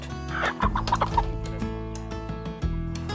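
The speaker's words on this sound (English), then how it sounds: "These are the Lohmann brown hens." Lohmann Brown hens cluck softly nearby, a few short, quick clucks over a low, steady hum.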